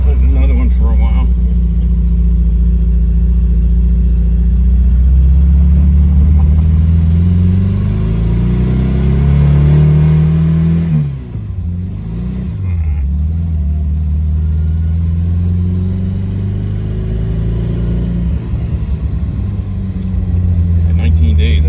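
A 1972 Fiat 850 Spider drives along in traffic with a loud, steady small-engine drone that rises and falls through gear changes, and someone talks over it throughout.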